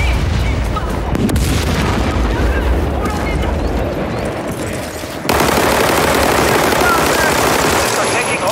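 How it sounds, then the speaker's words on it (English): Heavy booms and rapid gunfire from an airstrike in the video game WW3, a dense, loud, continuous barrage with explosions rumbling under bursts of fire, growing louder after a sudden jump midway. "Friendly airstrike incoming."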